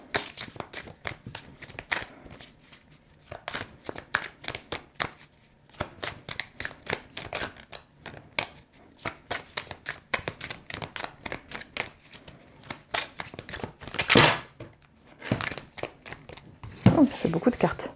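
Tarot cards being shuffled up close, a long run of quick riffling bursts with brief pauses between, some louder flurries near the end, with no talking over them.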